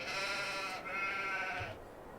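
Sheep in the Farming Simulator 22 video game bleat in two long, wavering calls one after the other, clear and close over a soft background hum.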